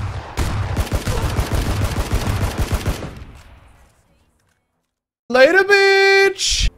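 Single-fire gunshots in a first-person shooter: a dense run of sharp, rapid shots for about three seconds, fading out, followed after a pause by a loud tonal game sound effect.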